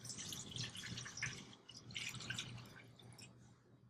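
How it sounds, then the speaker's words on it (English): Water poured into a mixing bowl in a kitchen while making pork belly brine, a soft close splashing and trickling that swells twice and then fades out. "We're going to take our water first. I'm going to add that into the mixing bowl."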